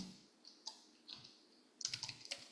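Keys tapped on a computer keyboard while entering text in a video editor, a few scattered light clicks, then a quicker cluster of keystrokes near the end, close and fairly quiet.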